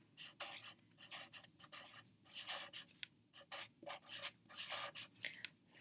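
Pen or pencil writing the number 645,000 by hand on paper, a steady run of short scratchy strokes with brief pauses between digits, close and fairly quiet, with no talking.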